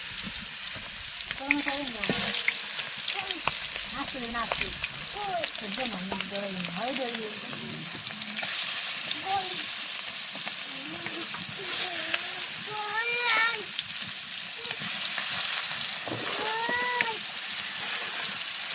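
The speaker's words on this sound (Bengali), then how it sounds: "মশলা টসলা যা লাগে আপনি ভাজার জন্য ভাজবেন অবশ্যই ব্রয়লার চিকেন ভাজবেন" Broiler chicken pieces frying with spices in a pan give a loud, steady sizzle and crackle for the whole stretch, with voices murmuring underneath.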